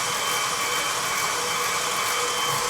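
An electric mixer creams cookie dough for date pinwheel cookies, giving a steady, loud, unbroken whir that holds evenly from start to finish without any talk.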